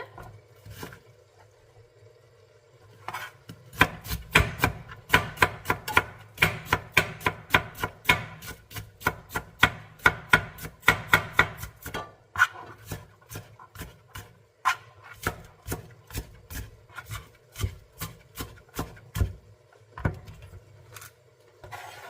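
Half a peeled onion is chopped on a board with fast, close, rhythmic knife strikes. The chopping comes in bursts separated by brief pauses, with no talking.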